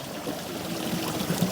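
Water from a natural mountain source on the road to Pithoragarh flows in a steady, close trickling stream, with a few brighter splashing spurts near the end.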